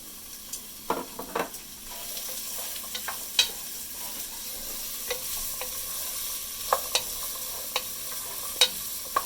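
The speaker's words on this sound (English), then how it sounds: "So the oil is ready. It's all shimmery in the bottom of the pan. I'm going to put in the carrots, onion, and celery." Chopped carrots, onion and celery fry in shimmering oil in a pan, a steady close sizzle with scattered clicks and scrapes from stirring, no voices.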